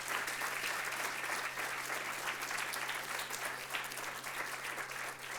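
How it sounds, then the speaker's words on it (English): Audience at a Three Minute Thesis competition gives the twelve presenters sustained applause, a steady, dense roar of many hands lasting over five seconds with no speech and a low electrical hum beneath. "let's show our appreciation by giving a round of applause to all 12 of their presenters today"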